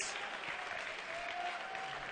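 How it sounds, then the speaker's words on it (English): Audience applauding volleyball coaches at a varsity boys volleyball finals awards ceremony, a steady, moderately distant wash of clapping lasting throughout. "let's have a round of applause for the coaches as well"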